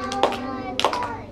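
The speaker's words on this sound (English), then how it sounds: "Let's clap the syllables in Valentine." Children in a classroom clap out the three syllables of a word during a morning literacy routine, a few distinct spaced claps with faint young voices underneath.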